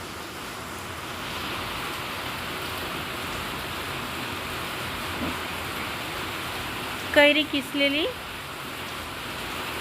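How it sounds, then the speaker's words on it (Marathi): Heavy rain pours steadily outside a kitchen as a constant hiss, and a voice speaks briefly near the end. "बाहेर पावसाचा आवाज पण जोरजोरात येत आहे"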